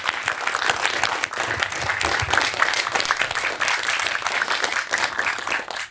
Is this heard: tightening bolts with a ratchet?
no